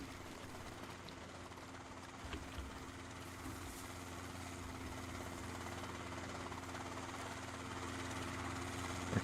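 In a raiding-style survival video game, a helicopter drones steadily with a faint rotor hum that swells slightly toward the end, heard at a distance under a steady engine-like whine with no voices.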